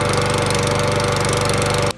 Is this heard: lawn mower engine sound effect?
yes